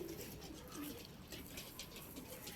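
Soft, low cooing of a pigeon repeats a few times, faint beneath a steady rustling background.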